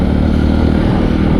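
A Yezdi Roadster motorcycle accelerates in third gear on an off-road track, its engine a loud, steady close-up drone with a dense rumble and no speech.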